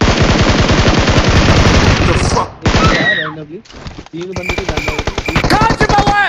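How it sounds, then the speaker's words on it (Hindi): Rapid automatic gunfire from the BGMI battle royale game, dense bursts of machine-gun shots for about two seconds, then scattered shots and game sounds with speech mixed in. "अब मेरी गोलियों की आवाज सुन के उस बंदे की फट गई"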